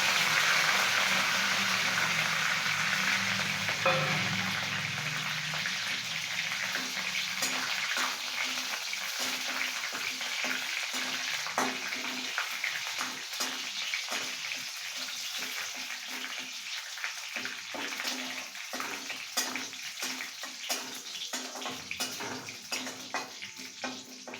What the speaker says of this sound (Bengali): এবার তেলের মধ্যে মা কারি পাতা ফোড়ন দেবে